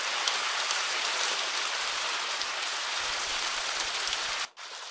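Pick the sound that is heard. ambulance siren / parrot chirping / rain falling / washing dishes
rain falling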